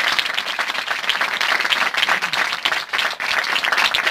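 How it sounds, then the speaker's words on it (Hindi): A church congregation claps together for a group of children, the applause loud, dense and sustained for the full length without letting up. "हम इतने जी जरूर इनके लिए तालियां बजाएं।"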